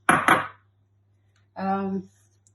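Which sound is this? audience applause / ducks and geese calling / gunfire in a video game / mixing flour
mixing flour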